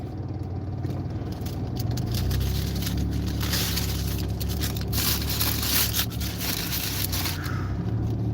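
A car cruises at around 35 mph on a service drive running parallel to an expressway, with steady engine and tyre-on-road noise throughout.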